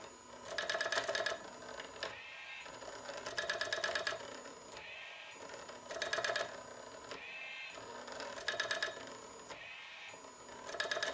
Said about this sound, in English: A relay with a tiny lever moves a wire up and down, transferring ink from the reservoir to an underlying sheet of paper.